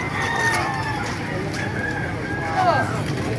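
Several chickens cluck and a rooster crows amid a busy outdoor market background in Baliuag, Bulacan, with a person talking.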